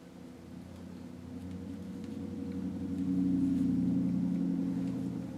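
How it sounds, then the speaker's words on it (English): Trucks passing outside in the South, a low muffled engine rumble heard from indoors that swells louder midway and then slowly eases off, with no talk. "Noisy trucks."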